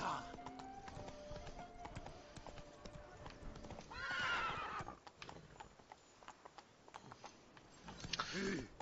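Horse from The Witcher 3 video game: steady clip-clop hoofbeats run throughout, with a loud neighing whinny near the middle and another near the end, at close range, with no talking heard.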